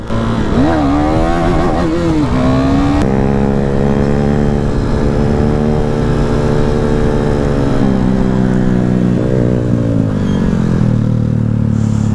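A KTM Duke 390 motorcycle engine revs loud and close during a burnout, its pitch climbing and holding steady in a strong sustained drone for the whole stretch.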